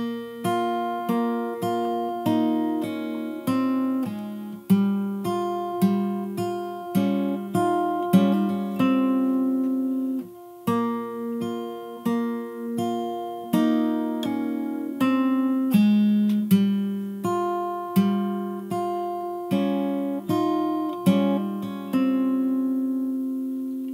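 Fingerstyle acoustic guitar picks out a song's melody over bass notes, a steady run of plucked notes ringing clearly and closely with no talking.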